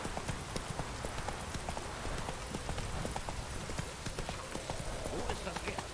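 Horse hooves clip-clop steadily in The Witcher 3: Wild Hunt, a quick, even trot heard fairly close beneath a constant layer of game ambience, with people talking over the gameplay.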